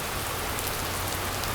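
Rain falls outdoors as a steady, dense hiss with fine pattering drops striking a surface, even and close throughout with no voices.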